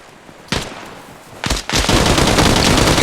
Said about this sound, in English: Charlie, rapid fire. I want more rounds down range.